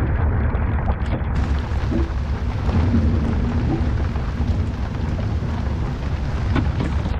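A thunderstorm rolls over a sailboat at anchor off Isla Mujeres, with a dense, unbroken roar of rain and wind and low rumbling thunder, loud and close for the whole stretch with no voices.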